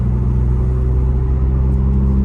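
A Lamborghini engine idles and cruises in its calm Strada mode, a steady low rumble with even harmonic drone, loud and close throughout with no voices.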